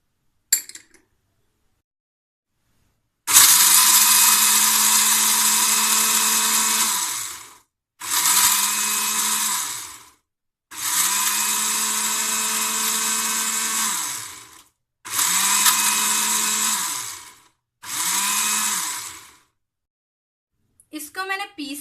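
An electric grinder whirs loudly through chaat masala spices (dry ginger powder, black pepper, cinnamon, green cardamom, fennel) in five bursts of a few seconds each, separated by short silences, with a steady motor whine in each burst.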